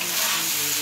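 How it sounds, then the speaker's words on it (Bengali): Marinated rice and raisins fry together in a pan for pulao, giving a continuous dense sizzle with a soft stirring texture, close and fairly loud throughout. "চালের ওপরই কিশমিশটা দিয়ে একবারে ভাজা করে দেবো"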